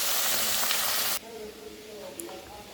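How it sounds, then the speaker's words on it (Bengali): Goat meat hits hot oil in a wok, a loud broadband sizzle that drops abruptly after about a second to a softer, steady frying crackle. "তেলটা গরম হয়ে এলে আমি এখানে মাংসগুলি দিয়ে দেব। এই তেলের ভিতরে আমি মাংসগুলি কিছুক্ষণ ভাজব।"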